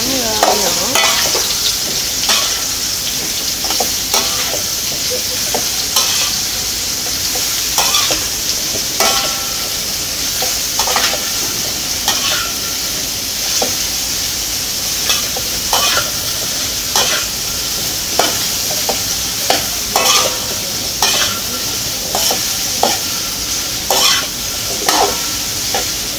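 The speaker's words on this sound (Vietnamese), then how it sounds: "thì sẽ đến công đoạn mình xào nấm, vẫy nấm cho nó thơm, với tỏi." Mushrooms and garlic stir-fried in a pan in a busy charity kitchen cooking bún mọc, with steady close sizzling and repeated scraping stirs of the spatula throughout.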